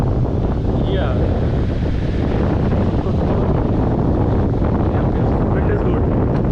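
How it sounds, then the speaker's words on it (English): Strong wind buffets the microphone while paragliding over Varkala, a loud continuous roar that fills the whole stretch without letting up. "Wind is good."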